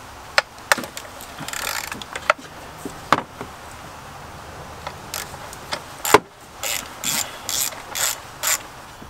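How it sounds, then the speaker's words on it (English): A hand ratchet fitted with a 10 mm socket and extension loosens a bolt on a car's ignition coil pack, giving close, crisp bursts of ratcheting clicks and sharp metallic snaps spread unevenly across the stretch. "using the 10 millimeter socket and an extension and a ratchet"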